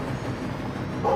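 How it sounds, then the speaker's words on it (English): A dog barks faintly somewhere in a house, a brief, distant yip or two at the very end, under steady room noise. "Sorry for the dog barking in the background"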